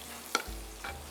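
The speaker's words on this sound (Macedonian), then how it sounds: "И си мешам." Macaroni with spinach being stirred in a frying pan, with a brief scrape of the utensil and a soft sizzle underneath, short and close.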